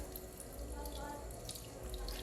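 A sink tap runs steadily during handwashing, a continuous moderate rush of water with faint splashing and no pause.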